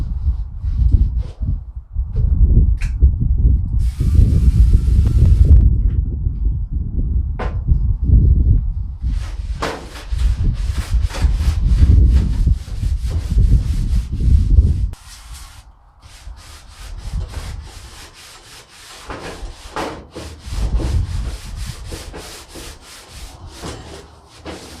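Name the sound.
oil being applied to charcoal grill grates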